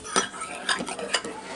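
A utensil stirs a slime mixture made with laundry detergent in a bowl, giving three quick scraping, clinking strokes close by, with soft wet sounds between them.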